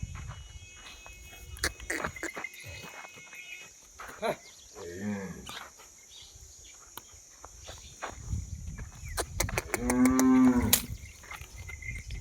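A nine-months-pregnant cow moos twice, a long low call midway and a louder, drawn-out moo near the end, with scattered rustling and faint talk around it.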